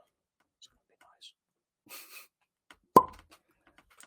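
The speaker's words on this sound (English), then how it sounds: "I'm ready for the Bowman if you're good for the Quiet on the Set cork pop" A single sharp cork pop from a Bowman port-finish whiskey bottle, loud and close, standing alone after a quiet moment with faint rustles before and after.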